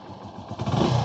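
A Hero Passion Pro 110cc motorcycle engine, 25,000 km on the clock, runs steadily at idle close up, a brief even putter that swells slightly louder near the end, with no voices.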